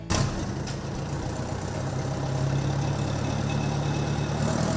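A 1974 Oliver 550 farm tractor with about 4,000 hours idles steadily close by, a continuous low engine drone with a faint knocking rhythm and no talk.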